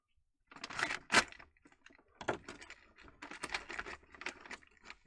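Plastic bag of gold paydirt being cut open, giving a run of close, crisp snips and rustling crinkles, fairly loud with short pauses and no talk.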